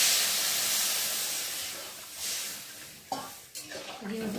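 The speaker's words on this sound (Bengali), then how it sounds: "আর এখন আমি জল দিয়ে ভালো করে একটু ফুটিয়ে দিই" Egg curry with added water simmering in a pot, a steady soft hiss and bubbling broth with a few scrapes and clinks of a spoon stirring near the end.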